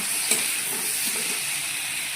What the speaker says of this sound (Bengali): ঝোলের জন্য জল দিয়ে নিয়েছি